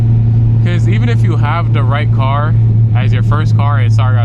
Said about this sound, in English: we're on the highway, so it's gonna be a lot of road noise, a lot of drone from the exhaust